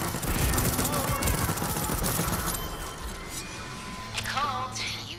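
Gunfire in the Deathloop video game: dense, rapid bursts of shots that roll into one another, loud and close, easing off toward the end, where a short electronic whine is heard.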